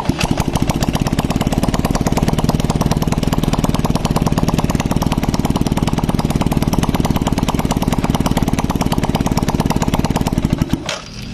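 An early-model Yamaha Jupiter Z motorcycle engine runs steadily at a fast, rattling idle, loud and close, before cutting off abruptly near the end; no one speaks.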